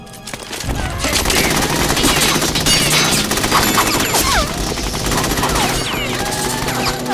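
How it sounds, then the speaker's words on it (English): Dense automatic gunfire rattles in Metal Gear Solid 2: Sons of Liberty, with loud sustained bursts, crashes and whooshing effects filling the scene while voices shout faintly beneath. "Hold your fire! We need the hostages alive!"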